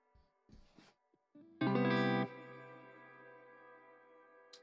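Shimmer reverb from a modular synth patch with Clouds pitch shifting, a bright layered chord swelling loudly then settling into a sustained, shimmering tail that builds quietly in the background after a few soft plucked notes.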